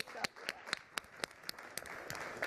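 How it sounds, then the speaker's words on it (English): Sparse, fairly faint applause from a conference audience, individual claps spaced at a loose, regular pace with a soft crowd murmur beneath. "I think this morning deserves a special round of applause"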